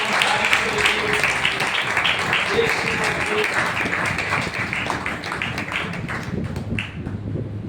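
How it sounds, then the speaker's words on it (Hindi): Church congregation applauding loudly at a Sunday sermon, a steady wash of many hands clapping with voices mixed in throughout, fading slightly toward the end. "जोरदार तालियों के साथ"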